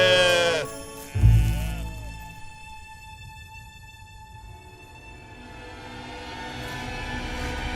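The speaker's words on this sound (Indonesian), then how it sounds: "Ada banyak domba untuk dihitung." Cartoon sheep bleating in an animated children's show, a loud layered bleat up front that fades out, followed by quiet, steady tonal music underneath.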